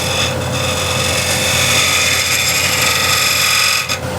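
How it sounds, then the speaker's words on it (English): A spindle gouge cuts wood turning on a lathe, making a steady, loud, high whirring hiss with a constant motor hum underneath and a brief dip near the end, with no talking. "I'm keeping the spindle gouge on the side and I'm rotating. on the bead"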